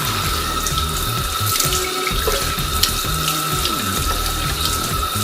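Water from a tap runs and splashes steadily as a face is wetted at a sink before cleansing, a continuous close rushing sound with small splashing variations throughout.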